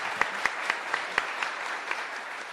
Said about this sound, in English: can I get a round of applause for our two authors?